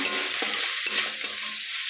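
Fish frying in a pan with onion, ginger and garlic paste gives a brief, dense, close sizzle with a few faint stirring scrapes.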